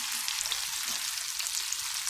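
Homemade onion rings frying in hot oil in a pan, a steady close crackling sizzle with fine popping, alone and without talk.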